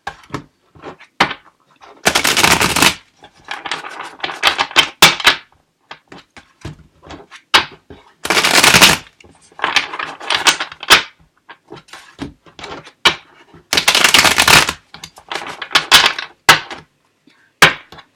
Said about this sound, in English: I'm just going to give these a little shuffle.